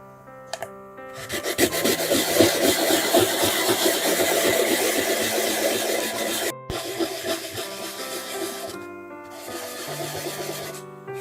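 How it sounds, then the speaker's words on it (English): Thick river find being sanded down, loud continuous abrasive rasping from a powered sander with an engine-like whine, running steadily for several seconds, briefly stopping, then resuming. "it's going to take some sanding down"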